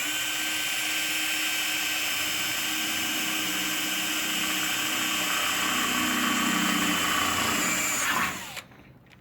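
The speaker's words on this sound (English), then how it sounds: "So yeah, I was going to pre-drill this guy here." Power drill running steadily for about eight seconds while pre-drilling a hole in the rim of a 2HP dust collector during installation of a NanoMax 224 filter cartridge, with a high continuous whine that cuts off abruptly at the end.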